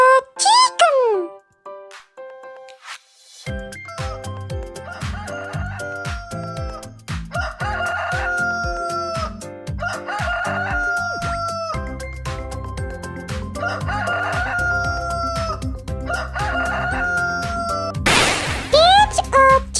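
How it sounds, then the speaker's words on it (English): Chicken crowing, a loud cock-a-doodle-doo repeated several times in an animal-sound sequence, accompanied by steady background music, with a burst of noise near the end. "It's a chicken."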